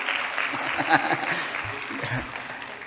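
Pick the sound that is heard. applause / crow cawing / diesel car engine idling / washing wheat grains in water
applause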